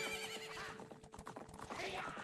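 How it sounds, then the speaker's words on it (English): Galloping hooves clatter in a steady clip-clop beneath repeated whinnies during a horse race in a Majora's Mask randomizer game, with backing music playing throughout. "We have a horse race set to Minecraft music."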